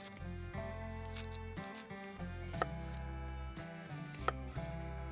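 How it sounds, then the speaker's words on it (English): A knife slices a pepper into strips on a board, giving several crisp cutting taps over steady background music, quiet and close with no voices. "cut the pepper into these kind of stripes"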